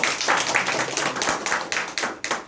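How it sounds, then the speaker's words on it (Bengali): School staff clap to welcome a returning head teacher at a primary school, with brisk, irregular clapping from a small group close by that continues throughout. "আমরা সর্বপ্রথম তাকে করতালির মাধ্যমে বরণ করে নিচ্ছি"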